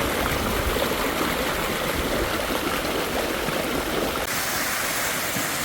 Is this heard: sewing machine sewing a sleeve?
no